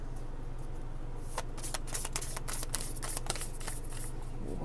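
Tarot cards being shuffled, a close run of rapid riffling flicks and snaps over a steady background hum.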